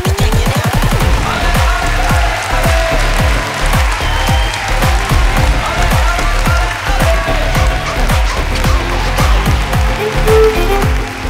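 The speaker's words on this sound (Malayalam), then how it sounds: "കൊടുക്ക് കൈയടി" A studio audience on the Malayalam TV game show Udan Panam claps in a sustained, dense burst of applause, loud and close, steady for several seconds with no talk over it.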